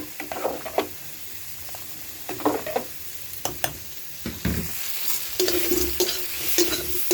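Potato and cauliflower curry being sautéed in oil in a pan, with soft continuous frying sizzle and intermittent scraping strokes of a spatula, moderately quiet and close.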